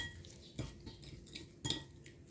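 Utensils clink and scrape in a bowl while green mango salad is mixed, two sharper knocks standing out against soft, quiet stirring.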